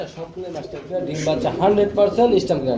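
Pigeons at a farm coo in soft, repeated throaty calls, with people talking close by throughout.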